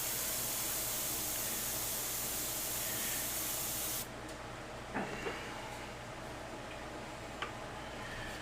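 Airbrush paint spray hisses steadily for about four seconds while shading a skull and female composite, then cuts off, leaving quieter room tone with a few faint taps.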